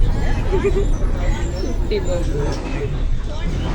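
Inside a moving bus, from a window seat, a low engine rumble and road noise continue steadily beneath background chatter from passengers.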